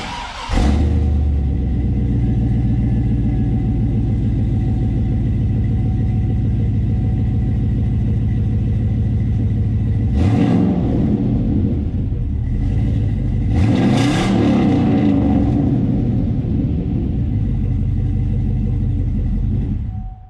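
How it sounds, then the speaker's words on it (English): A 2003 Chevy Silverado 1500HD pickup's exhaust gives a deep, loud engine rumble, idling steadily close by, with a couple of brief revs swelling the exhaust note. "But here's the way the exhaust sounds."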